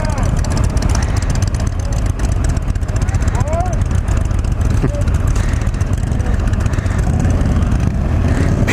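A 2020 Indian FTR1200 motorcycle ridden at speed, its engine droning steadily beneath heavy rushing wind noise, with a rider's voice talking over it.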